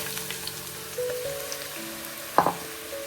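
Chopped onion sizzles in hot coconut oil, a soft steady crackle with a brief louder clatter near the end and faint tonal hum in the background.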